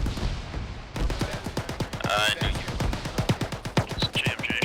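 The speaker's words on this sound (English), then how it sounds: "It's GMG shooting us." A grenade machine gun fires in a military shooter, with a steady rapid train of sharp, punchy shots close by and fairly loud. Voices chatter over the bursts.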